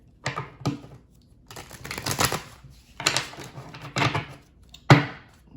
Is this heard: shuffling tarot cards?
yes